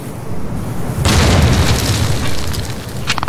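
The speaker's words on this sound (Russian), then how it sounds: "Граната на ночь." A grenade blast in the multiplayer game Call of Duty 2 during the battle at Carentan, a sudden loud, close boom that rumbles for a couple of seconds before fading, followed by a short sharp rattle.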